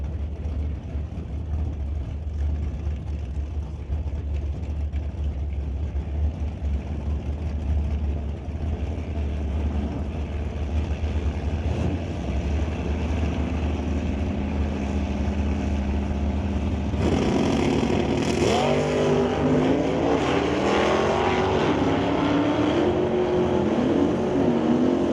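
A 1964 Chevelle launches and races down a drag strip, its engine roaring loud and steady throughout, with a sharper burst of engine noise and rising pitch sweeps in the last third as the car passes close.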